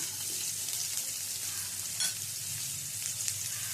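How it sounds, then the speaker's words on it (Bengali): Chopped onion frying in oil in a home kitchen, a close, steady sizzle with a brief crackling flare near the middle. "এবারে এই তেলের মধ্যে দিয়ে দেব পেঁয়াজ কুচি।"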